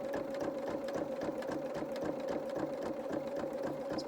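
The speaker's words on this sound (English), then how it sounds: "it's going to give us what's called a satin stitch, which is a very close stitch together, but a zigzag" A sewing machine runs a dense zigzag satin stitch at a slow, steady pace, its even whirring rattle continuous and close with no talking.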